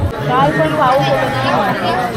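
Busy crowd chatter at a Navratri temple darshan in Pen, Khopoli, with many overlapping voices close by and someone speaking in the foreground above the steady murmur.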